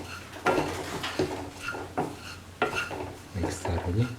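Okra and ground cashew nut stew stirred in a pan with a spoon, a series of scraping strokes and clinks against the metal about every second, close and fairly quiet, with a soft sizzle underneath.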